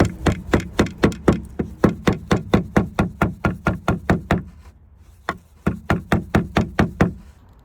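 A tool raps in fast, steady rhythm against spark plug tube seals set in a Hyundai valve cover, knocking them out. The sharp close knocks pause briefly and then resume as a slower, sparser run, with no voices.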